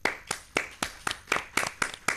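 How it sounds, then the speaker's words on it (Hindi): Steady rhythmic hand clapping, about nine sharp claps at an even pace, close and fairly loud with no voices. "एक बार अनन्या के लिए जोरदार तालियां तो बनती हैं"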